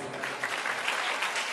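Church congregation applauding together in a Pentecostal-style worship service, a dense, steady wash of clapping from many hands filling the room with no voices on top.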